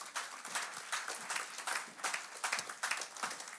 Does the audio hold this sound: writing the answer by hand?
no